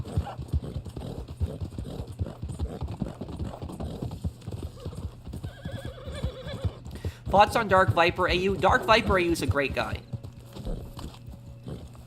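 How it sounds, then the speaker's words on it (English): Horse hooves clip-clop steadily in Red Dead Online, with a sharp whinny partway through, all under continuous talking from a player. "No, horse, don't knock me off."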